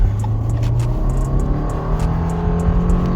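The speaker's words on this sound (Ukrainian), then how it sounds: "Стартуємо від нуля до сотні." A 2016 Subaru Legacy with a 2.5 engine and automatic gearbox accelerates from a standstill toward 100 km/h, heard from inside as a steady engine drone with a low hum that slowly rises.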